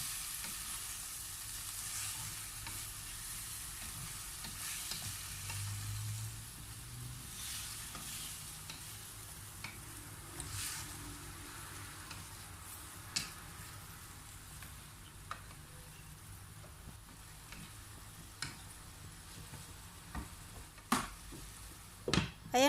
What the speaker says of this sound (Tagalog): Saka po natin ito haluin para mag-combine po lahat ang ingredients na ating nilagay.